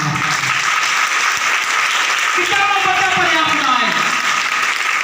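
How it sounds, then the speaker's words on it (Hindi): A church congregation claps together at a Palm Sunday service. The applause is steady and dense from start to finish, and a voice sings or speaks over it in the second half. "खुदावंद यसू की छोटी ताली बजाओ"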